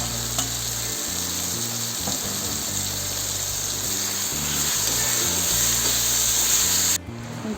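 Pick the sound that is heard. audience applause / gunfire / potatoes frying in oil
potatoes frying in oil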